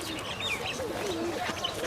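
Giribaz pigeons call nearby, soft cooing mixed with brief chirpy bird notes over a steady background hiss, with no talking.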